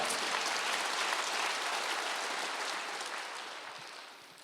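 A church congregation at a Wednesday worship service applauds in a steady, dense wash of clapping that holds strong and then slowly fades toward the end, with no voices over it.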